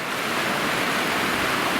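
Turbulent mountain river swollen by melting snow in the Western Caucasus, heard as a steady, loud, broadband rushing roar of churning water, continuous and close with no voices.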